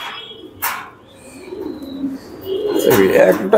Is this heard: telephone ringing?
no